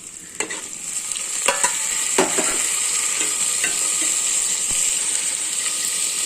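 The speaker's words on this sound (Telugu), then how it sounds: "నూనెలో ఫ్రై అయితే సూపర్గా ఉంటుంది. ఇలా వేయించుకోవాలి బాగా." Beef with potato frying in oil in a pan for a dry curry, a loud close hiss of sizzling broken by sharp spoon scrapes and clanks as the meat is stirred.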